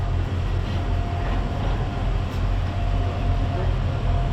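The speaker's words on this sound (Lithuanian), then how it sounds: "Mano traukinys, o tas" A train at a Lithuanian station platform, a steady loud low rumble and drone of the rolling train up close, with faint background voices.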